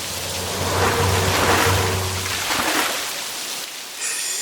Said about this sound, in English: puddles in all this rain?